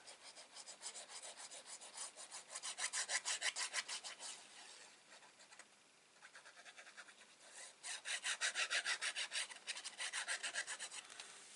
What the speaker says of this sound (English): Give that a good burnish.